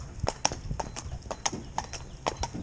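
A very sensitive, somewhat complex horse walks, its hooves clip-clopping in a steady, even rhythm at a moderate distance, fairly soft against a light background hiss.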